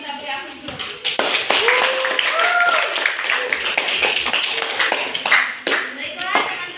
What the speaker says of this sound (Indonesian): Yuk kita beri aplaus dulu